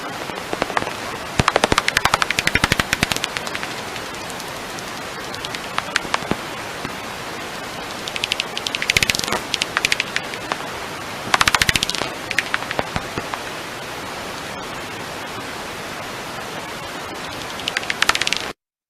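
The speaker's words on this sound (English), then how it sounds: "I'm going to play a soprano pipistrelle video" Soprano pipistrelle bat activity picked up on a bat detector gives bursts of rapid dry clicks and ticks that speed into buzzy trains, scattered irregularly over a steady hiss of background static.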